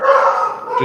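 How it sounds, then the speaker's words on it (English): A pet dog gives a short bark or yelp close to the microphone, one brief loud call with no talk over it. "you can hear my dog barking in the background"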